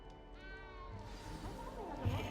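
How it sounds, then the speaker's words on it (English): A cat in the video game Hogwarts Legacy meows in a series of rising and falling, drawn-out cries, close and fairly loud over a steady game soundtrack, with no talking. "You don't need to be frightened, little cat."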